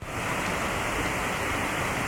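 A tall twin waterfall near Helen, Georgia gives a constant, even rush of falling water that fills the whole clip with no pauses.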